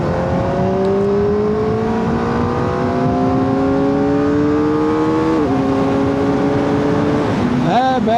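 A 2025 Kawasaki ZX-4RR engine revving under load, a loud, close, continuous high-pitched whine that climbs steadily through the gears, with quick shifts and a brief drop near the end.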